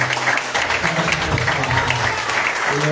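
A church congregation claps for the Lord, a thick continuous wash of hand clapping with voices calling out underneath throughout.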